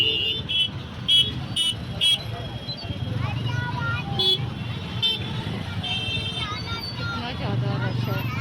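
Busy street traffic near a crowded clock tower, with a constant engine rumble, crowd murmur and several short car horn toots, while a nearby voice talks over it.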